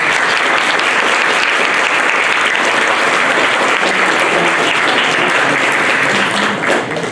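An audience at a book presentation in the Palacio de Minería in Mexico City gives loud, sustained applause, thick continuous clapping that stays even throughout and tapers slightly at the very end.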